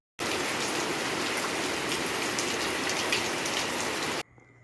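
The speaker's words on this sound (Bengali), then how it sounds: "একদম জমজম করে বৃষ্টি পড়ছে" Heavy monsoon rain pours steadily in Assam's Barak Valley during flooding, a dense, loud, unbroken hiss of drops on surfaces that cuts off abruptly near the end, with no voices.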